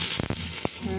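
Hot oil sizzling in a pot on a gas stove, a steady close hiss under brief stirring clatters, with a short sharp burst of crackle near the end.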